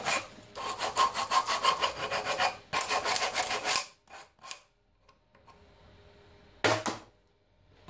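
A handsaw cuts a piece of wood clamped in a forged Bellota 6700 150 bench vise. Loud rhythmic rasping strokes run in two long bursts, then a few scattered scrapes, a quiet stretch and one last short burst.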